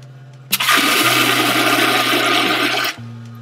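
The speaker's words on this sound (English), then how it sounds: "the sprayer works." A toilet jet sprayer, or bidet sprayer, blasts water in a loud steady hiss for about two and a half seconds. It starts and stops abruptly over a low background hum.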